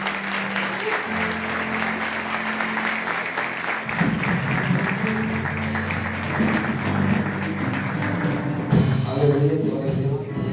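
Audience applause at an evening church service fills the room as loud, steady clapping from a large crowd, with sustained music tones running underneath and a swell of voices near the end.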